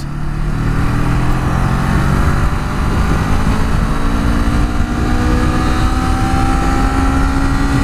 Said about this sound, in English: So smooth, this engine and clutch.